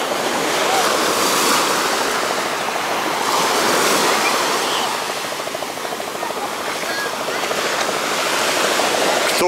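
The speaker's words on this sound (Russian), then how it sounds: "Вот такие вот небольшие волночки даже здесь сейчас есть" Small sea waves on an Alanya beach in Turkey roll in with a steady, near hiss of surf. The wash rises and falls gently in a couple of slow surges, with some light wind on the microphone.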